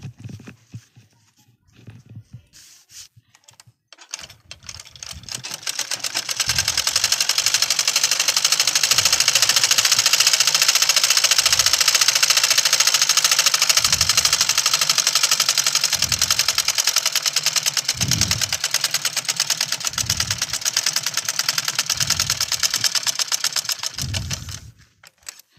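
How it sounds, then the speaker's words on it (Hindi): Sewing machine stitching fabric for a homemade grow bag, starting after a few seconds and running in a steady, loud whirring burst for about eighteen seconds with faint periodic low thumps, then stopping. "अब इसको ऐसे सीधा सा खड़ा सा सिलेंगे।"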